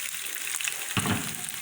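Cooked potatoes tipped into a pan of lightly frying onions set off a sudden burst of sizzling partway through, over a steady bright hiss of hot oil, close and fairly loud, with no talking.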